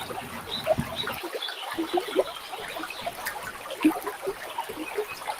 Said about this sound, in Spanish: Podemos escuchar el sonido del río,